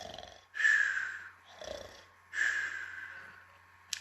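A storyteller imitates a sleeping giant's snoring: three loud, rasping snore breaths in slow rhythm, close and unaccompanied, ending with a short sharp click.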